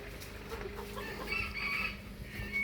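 A mother hen brooding eggs on a roof at a Thai temple clucks in short, soft bursts against a steady background hum, with no one speaking.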